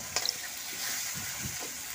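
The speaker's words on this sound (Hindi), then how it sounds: "अब हरी मिर्च डाल दिए" Green chillies frying in a pan for a dhaba-style eggplant bharta, with a soft steady sizzle, a few faint clicks at the start and low stirring bumps.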